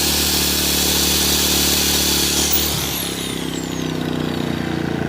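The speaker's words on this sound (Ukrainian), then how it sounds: "Підключити ось так болгарочку і показати, як це працює." An angle grinder runs off a WEIMA WM2300iS inverter generator, giving a loud, steady high whine that winds down partway through, while the generator's lower engine drone carries on beneath it.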